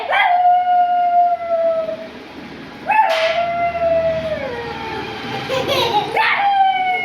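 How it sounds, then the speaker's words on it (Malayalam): Recorded dog howling played aloud, three long drawn-out howls with falling and wavering pitch, loud and close, one after another with short gaps between them. "നായന്റെ സൗണ്ട് എടുത്തേ നോക്കട്ടെ."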